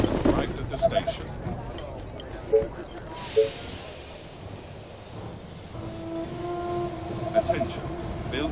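A train pulls into a station in the strategy game They Are Billions, amid game ambience, with a steady hiss and rumble, a few clanks, and a sustained tonal whine near the end.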